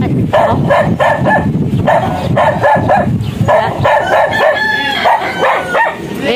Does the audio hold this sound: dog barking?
yes